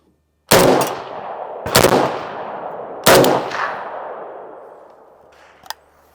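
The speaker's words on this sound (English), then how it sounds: "So let's just shoot it a little bit more and let's see what it's like." An AK-74 rifle fires three loud single shots about a second apart, each with a long ringing tail, followed by a faint metallic click.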